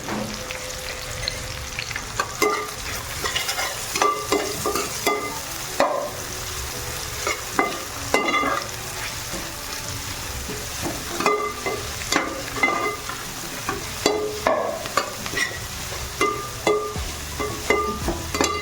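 Ginger-garlic paste frying in a pan, with a steady sizzle broken by repeated clanking and scraping strokes of a spoon stirring it, close and moderately loud, with no talking.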